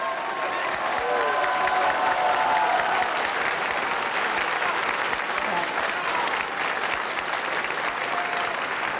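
Sustained audience applause at a televised Hessian carnival (Fastnacht) show, dense steady clapping filling the whole stretch with some crowd noise mixed in.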